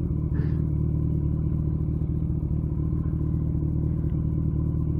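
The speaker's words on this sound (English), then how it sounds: "Too much gas on that downshift." Kawasaki ZX14R motorcycle rumbles steadily and loudly up close while riding, with a low droning engine tone throughout that fits a downshift given too much throttle.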